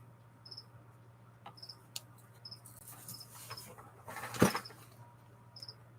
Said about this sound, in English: I hear you, Cricket.